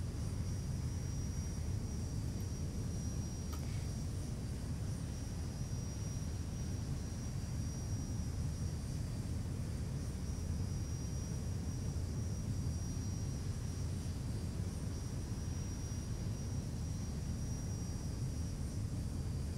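Steady, even drone of a Ryanair Boeing 737's twin jet engines cruising at altitude, recreated in a ZIBO 737 flight simulator, continuous and unchanging, with a thin high whine above the low rumble and no voices.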